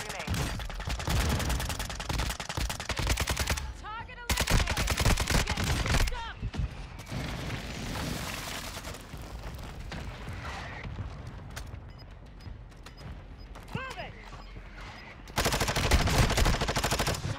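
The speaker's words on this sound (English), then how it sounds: "Enemy precision airstrike." An enemy precision airstrike in Call of Duty Warzone battle royale, with bursts of loud gunfire and explosive impacts coming in heavy clusters separated by quieter stretches, while a voice speaks over the action.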